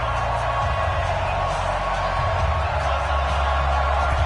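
Steady, loud stadium crowd roar in a PS4 American football video game before a Buffalo Bills versus Seattle Seahawks kickoff, a continuous dense wash of cheering with no break.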